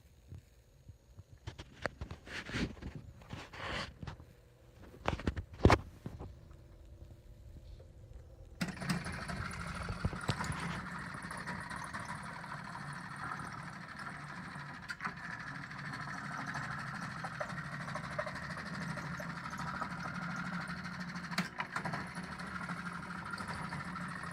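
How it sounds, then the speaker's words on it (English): A Seeburg SS-160 jukebox mechanism runs continuously, a steady mechanical whirring and rattling drone that kicks in after scattered clicks and handling knocks, sustained and fairly close. "the unit should look like this when it's actually traveling back and forth"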